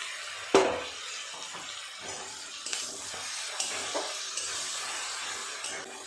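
Onion, ginger, garlic and tomato paste frying in a pan, a quiet sizzle broken by a sharp spoon clack at the start and several softer scraping knocks as it is stirred.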